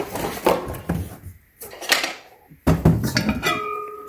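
The lid of an Our Place cookware pot is handled and set in place, giving several sharp metallic clanks and clatters in uneven bursts, up close and fairly loud.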